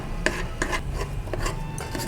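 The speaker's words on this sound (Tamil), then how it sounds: "இதை வேணால் லைட்டாக மசிச்சு விட்டுக்கலாம்" Irregular scraping and soft knocks of a utensil pressing and mashing cooked millet against the inside of a pot, several quick strokes in a row.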